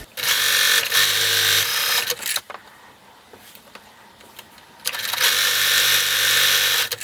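A home sewing machine runs in two loud steady bursts stitching a costume robe, with a quieter pause of clicks and handling between them; no talking.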